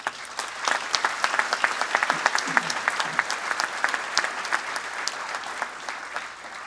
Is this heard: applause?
yes